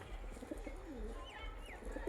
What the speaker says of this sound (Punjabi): ਨਿੱਕੇ ਨਿੱਕੇ ਪਿਆਰੇ ਪਿਆਰੇ ਕਬੂਤਰ